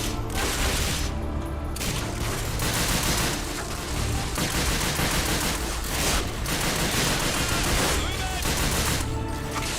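Video game gunfire rattles steadily in loud, rapid bursts with only brief pauses, dense and close, while a voice speaks faintly underneath.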